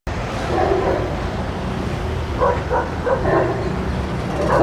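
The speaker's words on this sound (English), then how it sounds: "A lot of dogs out today." Several dogs bark in short bursts outdoors along the Iloilo Esplanade riverside in the Philippines, moderately close, over steady wind-like background noise.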